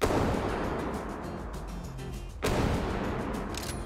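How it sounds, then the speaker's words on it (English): Gunshots fired at a Spinosaurus in the Prehistoric Hunt dinosaur game: over a steady, noisy outdoor ambience, a single loud, sharp report cracks out partway through, with faint distant pops around it. "let's see if we can get a few shots into it from right here"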